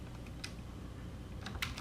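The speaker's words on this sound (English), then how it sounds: "you can either do Control-Shift-C on your keyboard" Keys on a computer keyboard are pressed for a shortcut, two small clusters of quiet, sharp clicks over a faint steady background hum, with no voice.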